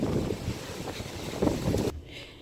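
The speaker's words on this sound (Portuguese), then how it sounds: "Olha o vento, gente do céu." Strong outdoor wind buffets the microphone in a steady, loud, broadband roar that cuts off abruptly near the end.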